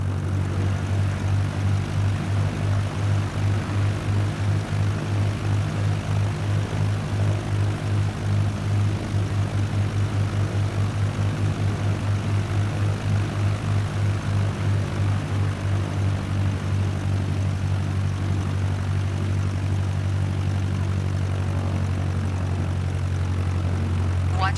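Cessna 172 taxiing in Microsoft Flight Simulator 2020 video game, with a steady droning propeller engine hum held at constant loudness throughout, low and continuous with no talking.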